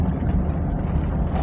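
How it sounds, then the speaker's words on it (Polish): A 1969 Fiat 500L's rear-mounted four-stroke engine runs with a steady, low, throbbing drone, loud and continuous with no talk over it. "Tu pracuje silnik czterosuwowy. Jest on z tyłu i napęd jest na tył."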